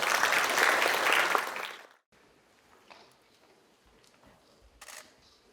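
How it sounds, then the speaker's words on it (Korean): Loud applause from the crowd at a university lecture and youth forum featuring the Daegu mayor rings out for about two seconds, then cuts away to a hushed room with a few faint clicks and rustles. "홍준표 대구시장님께 다시 한번 큰 박수 부탁드립니다"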